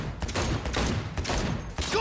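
Sustained automatic gunfire in the Cyberpunk 2077 video game, dense repeated bursts separated by brief pauses, loud and close with no voices.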